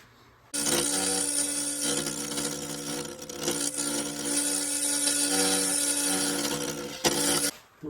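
A round carbide tool cuts the inside of an open segmented wooden bowl on a wood lathe, giving a steady, close scraping whir that starts abruptly and runs with slight surges before a brief dip and restart near the end.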